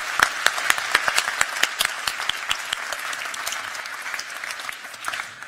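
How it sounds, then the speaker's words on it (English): Audience at a NATO conference applauding its panelists, with close, distinct individual claps standing out over a broader room of clapping, steady at first and then thinning out toward the end. "A round of applause for our panelists."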